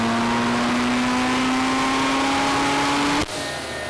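A rotary-engined Corvette on a dyno holds a steady, loud, rising rev under a 15 PSI boosted pull, climbing smoothly for about three seconds before cutting off abruptly to a lower idle-like drone.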